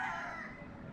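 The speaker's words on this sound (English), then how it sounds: "All those roosters have been waking us up since probably like 5:30 this morning." Rooster crowing on a tropical island, one sustained call heard at moderate distance, filling the brief moment alone.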